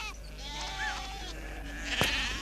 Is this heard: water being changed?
no